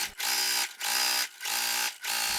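A sewing machine runs in four short, evenly spaced bursts while it stitches a backpack gusset, each a loud close whir separated by brief pauses.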